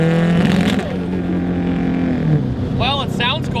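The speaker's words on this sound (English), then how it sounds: "unfortunately the car started breaking up" 800-horsepower Subaru STI engine breaking up under acceleration, a loud droning exhaust note that stutters and wavers as revs climb, heard from inside the car with a person talking over it.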